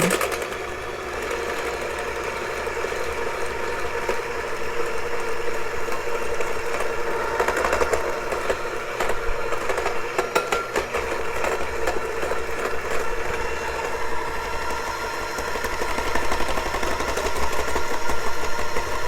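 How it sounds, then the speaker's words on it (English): An electric mixer beats eggs and sugar for egg custard, a steady close motor whir with slight rises and dips in intensity running throughout, with no talking. "next I'm going to add our sugar and continue beating"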